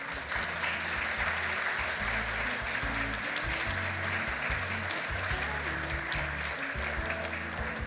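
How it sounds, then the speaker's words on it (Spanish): Loud, sustained applause at a judges' day ceremony honoring a civil and commercial court coordinator, steady clapping from the crowd with low thumping music running underneath. "Un fuerte aplauso, por favor."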